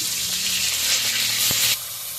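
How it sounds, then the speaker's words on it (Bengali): Pabda fish hitting hot oil in a pan, a loud continuous sizzle and crackle close by, with a brief clunk midway before the frying settles slightly quieter. "তেল গরম হয়ে গেছে তেলের মধ্যে আমি মাছগুলো দিয়ে দিচ্ছি"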